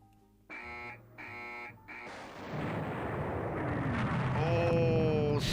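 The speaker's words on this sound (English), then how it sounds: "fire all remaining missiles" In the naval strategy game Rule The Waves 3, a destroyer fires missiles: a few short electronic tones lead into a loud, sustained roaring launch rush that builds and stays strong to the end.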